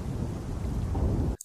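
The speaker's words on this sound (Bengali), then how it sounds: "বেশ বিদ্যুৎ চমকাচ্ছে আকাশে।" Cartoon thunder in a lightning storm, a dense low rumble rolling continuously for over a second before cutting off abruptly, with no voices.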